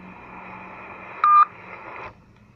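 A single short touch-tone beep from a telephone keypad as a number is dialed, sounding once over a steady electrical hum on the line.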